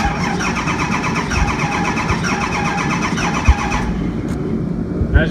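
A Ford 6.4 Powerstroke diesel truck engine cranks over steadily without catching for several seconds, a loud rhythmic churning that then stops, leaving a quieter tail.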